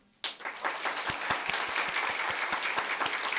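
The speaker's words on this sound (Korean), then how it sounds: "여러분 따뜻한 사랑과 격려의 박수 부탁합니다" Church congregation applauding during a Sunday worship service, a sudden burst of clapping that starts sharply and continues as dense, even applause with a few distinct nearby claps standing out.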